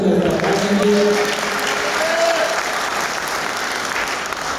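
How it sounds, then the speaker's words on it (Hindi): Audience at an Urdu poetry mushaira in Muscat bursts into loud, sustained applause, a dense wash of clapping that holds steady throughout, with brief tonal voices or microphone sounds drifting underneath near the start. "ज़ोरदार तालियों से"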